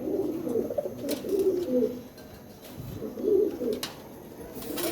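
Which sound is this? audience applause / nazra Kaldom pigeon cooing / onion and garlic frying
nazra Kaldom pigeon cooing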